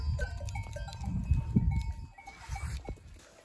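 Goats bleat several times in short, nasal calls over a busy farmyard background, with a faint metallic clinking now and then.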